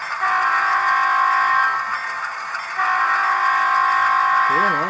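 A model train locomotive's horn sounds in loud, sustained chord blasts with a brief dip between them, and a voice comes in right at the end.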